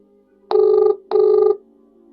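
A phone line gives two evenly spaced ringback tones, each about half a second, with short silences around them.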